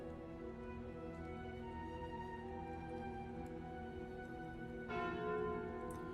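A ringing bell from the Slay the Spire video game, the Calling Bell relic, sounding as a sustained, resonant chime that swells again near the end, heard alone with no talking.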